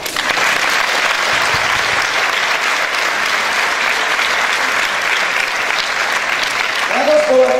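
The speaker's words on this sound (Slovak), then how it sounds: "Že ešte potlesk pre celý súbor," Sustained audience applause fills the whole stretch, dense and steady clapping from a crowd after a children's folk ensemble's anniversary performance in Žilina, with a brief bit of talk near the end.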